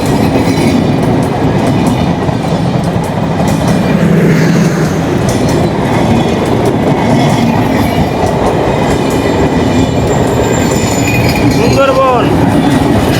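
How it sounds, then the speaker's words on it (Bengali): Sundarban Express hauled by a 6620-series locomotive pulls out of Jagati station in Bangladesh, a steady, loud rolling rumble with rattling wagons lasting throughout and a brief wheel squeal near the end. "ছেষট্টি 20 সিরিজের লোকোমোটিভ নিয়ে চলে গেল সুন্দরবন এক্সপ্রেস ট্রেন খুলনায়"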